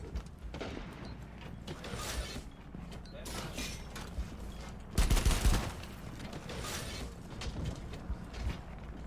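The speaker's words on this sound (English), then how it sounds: "Kind of shooting the wall there" Gunfire in Rainbow Six Siege as rounds are shot into a wall, heard as a burst of rapid shots about midway through, with fainter clatter and mechanical sounds before and after.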